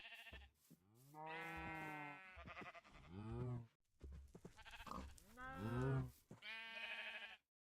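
A hurt cow in the GT New Horizons modpack for Minecraft gives several short, wavering bleat-like moos in quick succession, clear and close, with brief gaps between calls.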